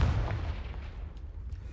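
A Confringo explosive spell blast in the Hogwarts Legacy video game: a deep booming burst that hits loud at once and then rumbles away over a second or so.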